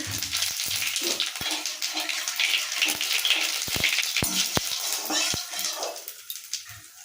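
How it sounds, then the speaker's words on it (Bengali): Cumin seeds temper in hot oil in a wok with a bright, steady sizzle and crackle, close and loud, broken by sharp clicks and knocks of a utensil against the pan, while a person talks over it. "এবার আমি কড়াইয়ে তেল গরম হয়ে গেছে, তেলের মধ্যে পেঁয়াজ কুচিগুলো দিয়ে দেবো। দিচ্ছি জিরে ফোড়ন"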